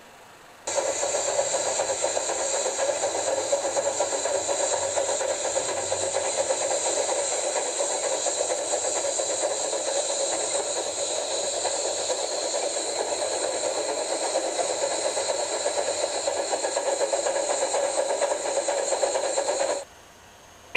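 Steam engine running in a Postman Pat cartoon, a steady rolling chug with a continuous hiss, loud and unbroken for about nineteen seconds before cutting off, with no talk over it.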